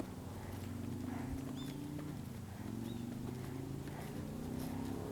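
A horse's hooves clop steadily as it walks around a training circle, the rhythmic footfalls fairly close over a constant low rumble of background noise.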